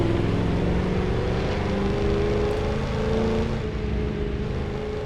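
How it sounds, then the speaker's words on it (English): Ford Mustang muscle car engine in The Crew 2 racing game, a steady, loud low growl held at constant revs throughout, with no talk over it. "Listen to the angry growl of my Mustang."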